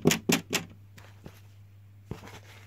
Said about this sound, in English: I hear a knock on the door.